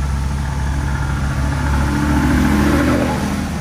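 Car engine pulling hard in a low gear while climbing a steep mountain road, a loud, continuous deep drone that rises slightly in strength toward the end, with no voices over it.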